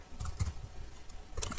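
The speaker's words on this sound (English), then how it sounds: "Just type it in." Typing on a computer keyboard, a few soft, scattered key clicks in a quiet room, close by but faint.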